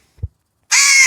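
A crow chick lets out one loud, sustained caw near the end, after a short low thump and a stretch of silence.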